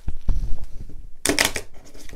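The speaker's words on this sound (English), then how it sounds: "If you try to shuffle" Playing cards from two differently sized decks riffled together in one short, crisp burst of flapping and crackling, close by and alone after some quiet handling noises.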